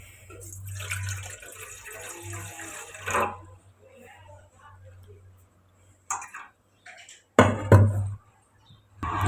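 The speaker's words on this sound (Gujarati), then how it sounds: "તો આપણે તપેલીમાં પાણી નાખી દીધું" Water splashes and pours into a cooking pot in short bursts, with bumps and clatter between pours and a low hum underneath.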